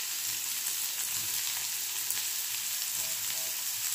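Onions fry in oil over a medium flame, giving a dense, steady sizzle close up that carries on without pause and without any talk.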